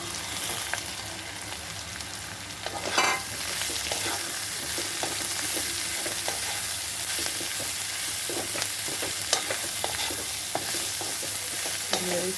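Eggplant and jackfruit seeds fry in a pan with a steady close sizzle, while a spoon scrapes and stirs through them in repeated strokes, no voices present.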